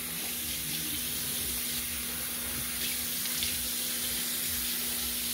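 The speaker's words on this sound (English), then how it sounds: "So rinse your face thoroughly." Steady running water from a bathroom tap splashes continuously while a face is rinsed as part of a skincare routine for acne scars, a close, even wash of sound with no talk over it.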